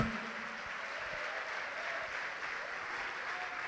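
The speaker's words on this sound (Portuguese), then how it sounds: "Vamos aplaudir o Senhor por isso." A church congregation claps together during a sermon, a sustained, even round of applause from many people filling the hall at moderate volume.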